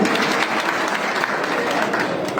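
Steady, dense applause from a political rally audience greeting about 300 young Koli community workers joining the party, continuous clapping with no talk over it.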